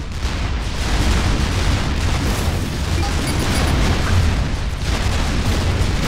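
Continuous rumbling explosions and booming artillery-like fire as Rockhead tanks, Titan assault bots and an ACU battle in the real-time strategy game Supreme Commander 2, a dense steady wall of blasts with no voices.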